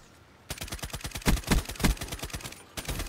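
Rapid automatic gunfire from Black Ops 3 rattles in a fast, steady burst of sharp shots after a brief quiet start, loud and close with a few heavier reports in the middle.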